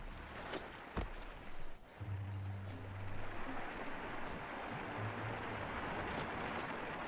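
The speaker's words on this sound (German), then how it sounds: "Wasserfall?" Waterfall in the video game Biomutant, heard as a steady broadband rush that fills the whole scene, with a low rumble and a few faint game effects underneath.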